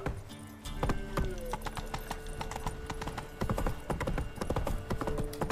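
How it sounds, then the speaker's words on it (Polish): A horse clip-clops at a steady gallop in The Witcher 3, with rapid rhythmic hoofbeats throughout, a brief whinny near the start, and game ambience beneath. "Na koń! Chodź mój dzielny wierzchowcu."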